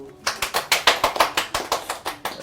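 One person claps hands in a quick, even rhythm, about a dozen crisp claps close by in a quiet indoor room, with no voice over them.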